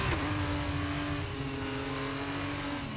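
A Formula 1 car with a damaged left wing screams through its gears at the Monaco Grand Prix in F1 23. The loud, close engine whine climbs, then drops at each shift, and carries on steadily with no talking.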